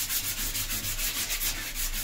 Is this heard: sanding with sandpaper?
yes